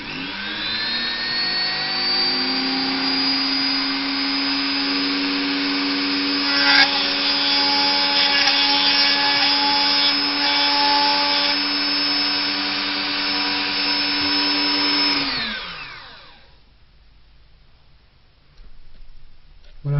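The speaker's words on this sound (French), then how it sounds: "je sais à peu près où je vais devoir percer tout à l'heure" A power drill bores a hole for an LED diode during a chip installation: a loud, steady motorized whine with strong harmonics holds for about fifteen seconds, then winds down and stops.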